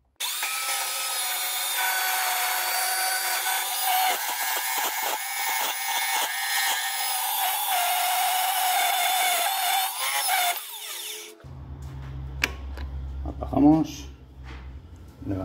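Starrett S1105 band saw cutting metal stock runs with a loud, steady high-pitched blade whine and rasp for about eleven seconds, then stops abruptly, leaving a low hum with a few clanks and a voice speaking.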